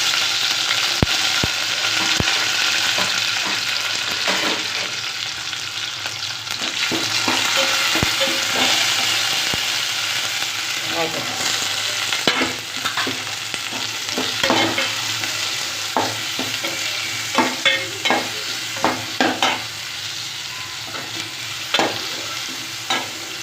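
Curry leaves and garlic crackle and sizzle in hot oil for a fish curry, with a continuous frying hiss under repeated clinks and scrapes of a spoon stirring the pan close up.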